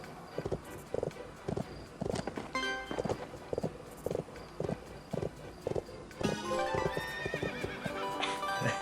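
Video game horse whinnying and steady hoof clip-clops in a cel-shaded game with smooth 60 FPS play, repeated neighs and rhythmic footfalls over a busy, music-like game soundtrack with no talking.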